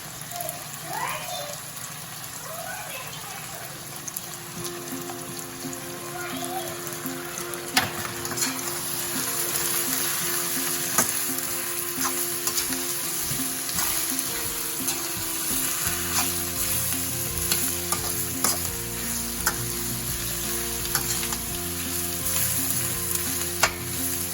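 Food cooks in a pan for white sauce pasta, giving a dense, continuous sizzle and crackle with occasional stirring scrapes and clicks, loud and close throughout.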